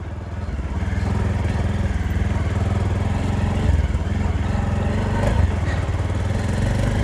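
A motorcycle is ridden along a rough, wild dirt road in the rain, its engine a close, steady mid-pitched drone with slight surges as it climbs and bumps along.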